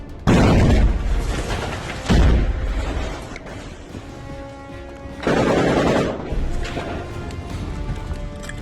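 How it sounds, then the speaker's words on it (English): Heavy gunfire rings out during an assault on a building in an urban combat setting, with three loud bursts of shots and blasts separated by sustained rattling fire and echoing reverberation throughout. "After several shots, the assault on the building begins."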